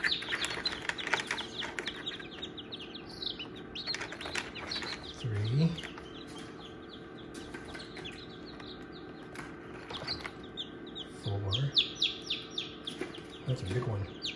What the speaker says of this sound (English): That's a lot of chicks.